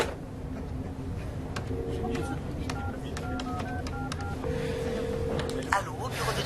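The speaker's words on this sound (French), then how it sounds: "Il faut que j'appelle John Price." A phone number is dialed on a telephone keypad, a series of short, evenly spaced DTMF beeps of varying pitch over quiet room tone, with a voice speaking faintly underneath.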